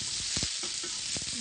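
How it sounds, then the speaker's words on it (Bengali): Bottle gourd fries and gets stirred in a pan for a potato and poppy seed dish, a steady close sizzle broken by a few sharp scraping strokes of the spatula. "লাউটা ভাজা হতে থাক"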